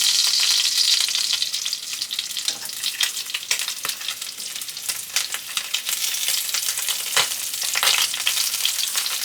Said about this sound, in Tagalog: Matalsik-talsik pa yung mantika mga kasimple.